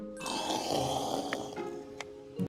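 A person imitates a lion's roar with a drawn-out, throaty growl that sounds more like a snore, one sustained rasping breath lasting about two seconds, followed by a brief clatter at the end.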